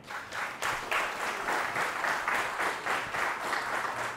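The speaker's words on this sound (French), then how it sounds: "Je vais vous demander de l'applaudir très fort, s'il vous plaît." Guests applaud at an award ceremony for a knighthood medal, a full, rhythmic wave of clapping that swells and pulses steadily, loud and close.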